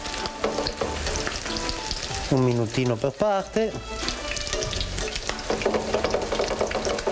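Lamb ribs fry in boiling oil with a loud, crackling sizzle that continues throughout, stirred and clattering at moments, while someone speaks Italian over it.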